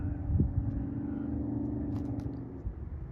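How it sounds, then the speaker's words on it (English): A truck's loud Jake brake rumbles low and steady in the background near a windy riverside, holding a continuous growl for about three seconds. "truck in the background with a Jake brake, very loud Jake brake"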